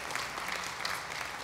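A church congregation applauds the coffee team, a soft, even spread of many hands clapping that sounds somewhat distant and stays alone without voices.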